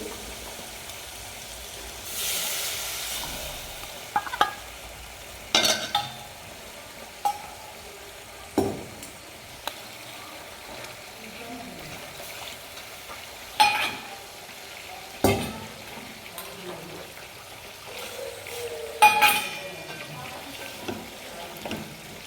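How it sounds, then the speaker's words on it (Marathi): Gram flour batter poured into a pot of yogurt kadhi seasoned with turmeric and asafoetida, then stirred, producing scattered spoon knocks and scrapes against the pot over a quiet, low simmer. "याच्यामध्ये मी हे कालवलेलं पीठ टाकते"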